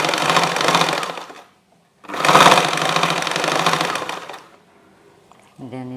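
A sewing machine stitches fabric in two loud, steady runs of about 1.5 and 2.3 seconds, separated by a short pause, during beginner tailoring work along a garment's waistline seam.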